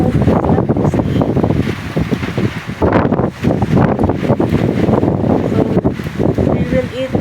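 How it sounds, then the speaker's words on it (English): Strong wind from Typhoon Uwan blows steadily and loudly in a continuous roar that buffets the microphone, easing and surging over several seconds. "The wind comes down and after a few minutes it comes back again."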